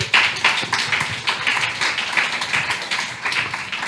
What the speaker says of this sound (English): So give Mr. Erick Pinos a round of applause for educating our people.